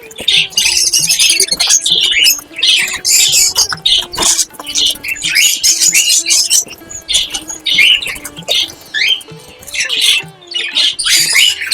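Budgerigars squawk loudly and in rapid, overlapping bursts as they are being caught, their harsh chatter close and almost unbroken throughout.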